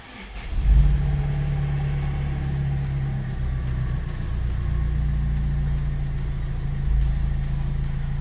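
A Mazda 6 MZR 2.2 CD diesel engine cranks and starts just after an oil change, catching with a loud burst, then settling into a steady, close idle hum with a slight rise near the end.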